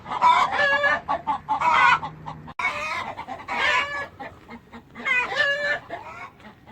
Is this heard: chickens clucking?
yes